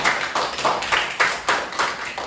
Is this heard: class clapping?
yes